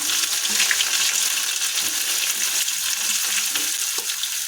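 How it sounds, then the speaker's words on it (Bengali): About 100 grams of chopped onion fries in a wok for egg tadka, making a loud, dense, continuous sizzling hiss close by with soft stirring underneath and no voices. "এখন আমরা কড়াইতে যোগ করে দেব 100 গ্রাম পরিমাণ পেঁয়াজ কুচি"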